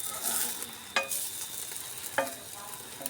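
An egg fries like an omelette in a pan with a soft continuous sizzle and two or three distinct clicks of a spatula against the pan.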